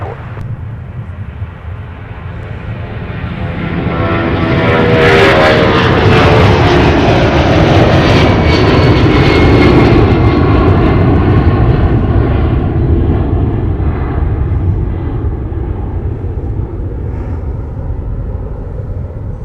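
A Delta airliner roars down runway 30 left at MSP on takeoff, its engines swelling into a loud, sustained rumble with a rising whine that peaks midway and then slowly recedes.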